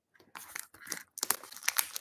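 Cardboard tearing and crinkling as the box of a new tarot deck is pried open by hand, a few close, irregular bursts of ripping and rustling with brief pauses, no talk.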